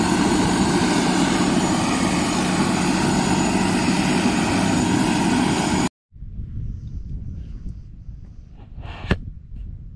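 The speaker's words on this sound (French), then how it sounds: "Là, ils sont en train de recharger l'hélicoptère." A loud helicopter engine and rotor roar drones steadily nearby, then cuts off abruptly, leaving quiet background rustling and a single knock.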